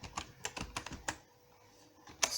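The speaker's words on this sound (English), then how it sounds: "I'm just going to type right here" Quick keystrokes on a computer keyboard as a web search is typed: a burst of close, crisp clicks, a short pause, then one final sharp tap.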